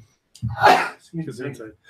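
A person sneezes loudly and close on a gaming podcast, one sharp explosive burst, followed by someone speaking.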